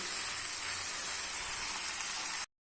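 Washed manathakkali greens sautéing in a pan, a dense steady hiss of frying close by, continuous until it cuts off abruptly near the end.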